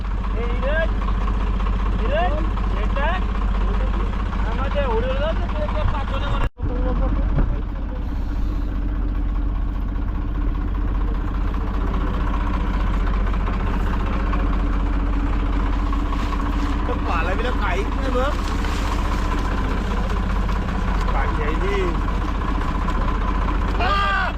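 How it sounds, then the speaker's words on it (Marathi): A pump runs on a fishing boat at night, a steady mechanical hum with a low engine-like drone throughout, with voices talking over it. "पंप चालू आहे पंप चालू आहे"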